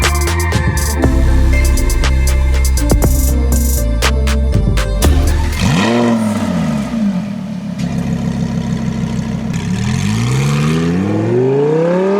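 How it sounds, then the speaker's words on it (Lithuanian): A Lamborghini Huracán supercar with an unrestricted, non-turbo engine, loud and close, revving in sharp repeated blips before a long rising and falling rev sweep that ends in a climbing whine. "Visiškai jokios turbinos neslopino automobilio garso."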